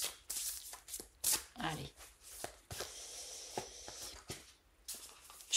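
Tarot de Marseille cards are shuffled and handled up close in a series of crisp papery shuffles, flicks and taps, with a brief spoken word in between.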